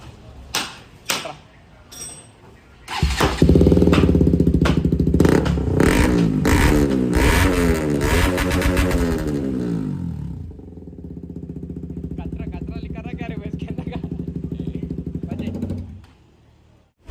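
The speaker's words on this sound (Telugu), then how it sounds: "ఇప్పుడు అక్రోపావిక్ది షైన్ బైక్ ఎగ్జాస్ట్ సౌండ్ అయితే తిందాం ఒకసారి." A KTM RC 200 BS3 fitted with an Akrapovic R1 full-system exhaust starts up and revs hard several times, loud and close, then settles into a steady idle before cutting off. There are a few clicks and clatters beforehand, and a little talk.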